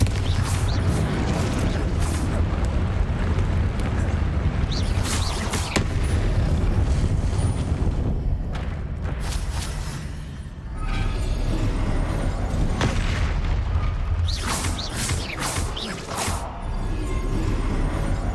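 Confringo explosion spells in Hogwarts Legacy go off in a dense barrage of booming blasts and crackling bursts, loud and continuous with brief lulls between volleys.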